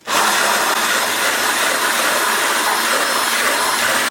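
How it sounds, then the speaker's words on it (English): A loud, steady power tool whirs close by with a broad grinding roar on a classic BMW V8 restoration, running continuously without talk. "Let's see if we can introduce a power tool into the equation here."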